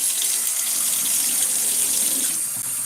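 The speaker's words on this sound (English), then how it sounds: "I wash my rice until the water comes out clear." A kitchen tap runs steadily while rice is being washed, a loud continuous hiss of water into a sink with no voices and no break.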